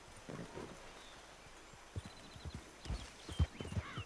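Horse hooves clip-clopping in the Red Dead Redemption 2 video game, faint and uneven thuds that grow busier toward the end, with a quiet background and no talking.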